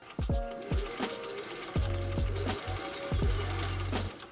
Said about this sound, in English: sew all the way around to the other end, just to keep the neckline from stretching